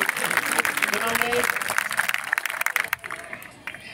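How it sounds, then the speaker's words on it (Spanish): A live show audience in Mar del Plata claps for a woman from González Catán, thick crowd applause with voices mixed in that breaks up into sparse, separate claps as it dies away. "¡Aplauso para la amiga de González Catán!"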